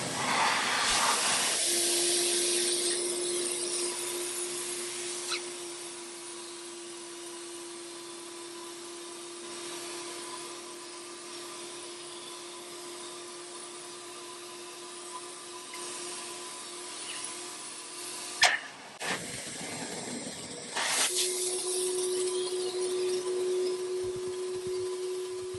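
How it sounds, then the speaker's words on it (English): A Prolux wet/dry garage vac used as a carpet extractor runs continuously with a steady hissing whine and a sustained tone, briefly cutting out near the end before starting again. "then I'll use the extractor to pull it out"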